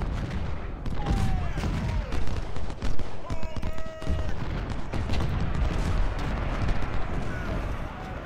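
Sharpshooters firing muskets in an Ultimate General Civil War battle, a dense crackling fusillade of overlapping shots and booms, loud and continuous, with brief higher tones cutting through the gunfire.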